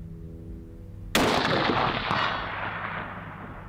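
One sharp, loud rifle shot fired at a small long-range target cracks out of quiet and rolls into a fading echo.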